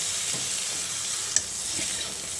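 Potato curry being stirred and mixed after a piece of lemon is squeezed over it, a soft steady scraping and faint sizzle at a near distance, with one brief clink midway.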